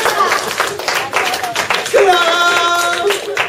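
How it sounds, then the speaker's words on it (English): A small group of children claps in short, uneven bursts at a painting activity, scattered hand claps mixed with an adult talking and a child's sung or drawn-out voice. "Yes, you should clap."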